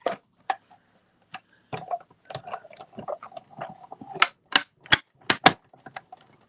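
A paper cutting machine working through card, giving irregular sharp clicks and snaps that grow louder and denser toward the end, close by with no talking.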